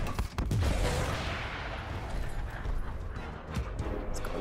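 A barrage of gunfire in the video game Gears Tactics, with a heavy burst up front and then a rolling, rumbling wash of shots and blasts that gradually thins out.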